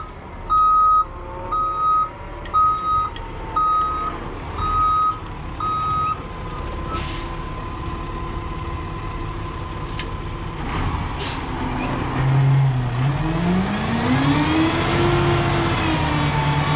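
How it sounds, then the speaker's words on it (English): A large truck delivering rock for a driveway backs up with a steady series of loud reversing beeps, then the engine revs and an air brake hisses as it pulls forward. "He's got a little bigger truck than I do."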